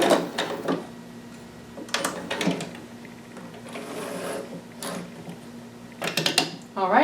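Sewing machine back stitching along a dress hem, short bursts of mechanical clicking and whirring that start and stop several times, close and moderately loud, with brief pauses between runs.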